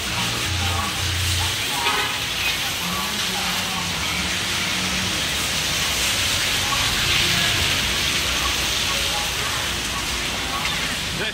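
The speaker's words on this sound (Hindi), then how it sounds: "रेस्टोरेंट से निकलते ही बारिश बहुत ही तेजी से होने लग गई" Heavy rain pours steadily outside a restaurant in Saigon, Ho Chi Minh City, a dense, even hiss that never lets up, with faint voices mixed in.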